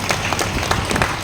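Audience clapping at a Tamil pattimandram stage debate on film songs, a steady dense applause filling the hall with scattered louder claps, no talk over it.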